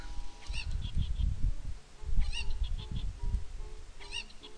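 Cucco chickens in The Legend of Zelda: Ocarina of Time squawk and cluck in repeated honking bursts over a dense, low rumbling bed, with several sharp, bright cries near the middle and end, no talking.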